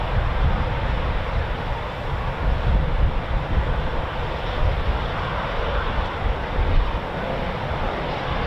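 A Eurofighter Typhoon FGR4 fighter jet departs singly from RAF Coningsby with a loud, continuous, dense roar that holds steady throughout, with gusting wind noise and no talk.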